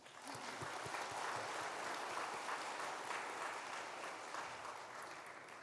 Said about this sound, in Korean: 우리 한번 박수 한번 해줍니다